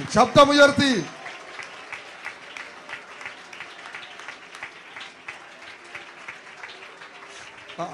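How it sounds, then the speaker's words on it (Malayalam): A church congregation claps hands in praise during a sermon: a brief loud voice at the start, then sustained, moderately loud clapping from many people that continues steadily to the end. "ആ കരം തട്ടി കർത്താവിനെ ഒരു മിനിറ്റ് ഒന്ന് സ്തോത്രം ചെയ്താട്ട്"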